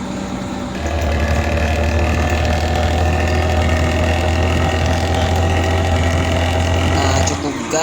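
A Hino bus engine runs steadily with a deep, throaty drone and a rattling, raspy edge, loud and close, holding for most of the stretch before cutting off near the end.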